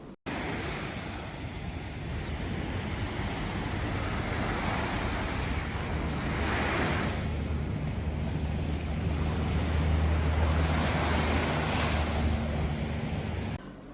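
Sea waves wash steadily along the shore, a continuous broad roar of surf mixed with wind noise, loud and unbroken for over ten seconds.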